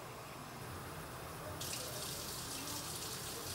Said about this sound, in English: So I'm going to add another can of water to my sauce.